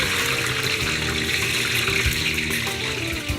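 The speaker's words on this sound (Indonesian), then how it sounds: "Panaskan minyak goreng dan goreng telur hingga kuning kecoklatan." Eggs frying in hot cooking oil in a pan, a loud, dense, steady sizzle with no pauses.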